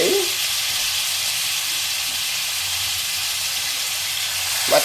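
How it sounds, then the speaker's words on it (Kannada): Raw chicken meat frying in oil in a pan gives a loud, steady hissing sizzle that holds evenly throughout, with a faint clink at the start and a small bump at the end. "ಮತ್ತೆ ಚೊರ್ರೆಂದು ಸೌಂಡ್ ಬರುತ್ತದೆ"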